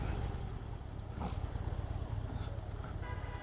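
Harley-Davidson Dyna Low Rider S motorcycle on the move through the Bronx, its engine a steady, loud low rumble with continuous road and wind noise throughout, no talking.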